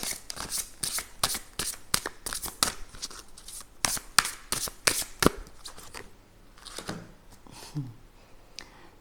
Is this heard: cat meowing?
no